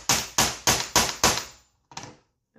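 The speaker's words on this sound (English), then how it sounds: "then I'm going to hammer that again really hard" A metal hole maker is struck hard through leather, five sharp hammer blows in a quick even rhythm, then a sixth after a short pause, close and loud.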